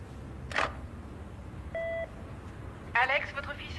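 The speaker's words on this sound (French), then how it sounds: "vous êtes branché sur un répondeur" An answering machine gives a single flat electronic tone lasting about a third of a second, set between two brief bursts of voice over a hissy room background.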